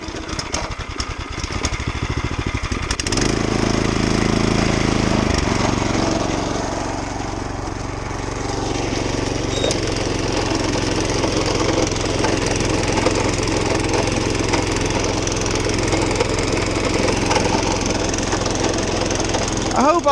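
A tiller engine churns steadily while tilling a food plot, loud and continuous with a rough low drone that holds for the whole stretch after a brief sputtering start.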